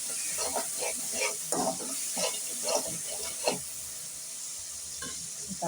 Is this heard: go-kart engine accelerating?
no